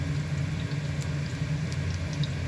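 Liver patties fry in a pan, a steady dense sizzle with faint crackles holding at an even level throughout, close and without any voices.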